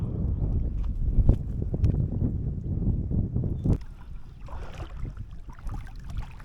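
A boat rumbles past near a shore fishing spot, its engine and wash loud at first and then fading, leaving quieter water and wind noise behind.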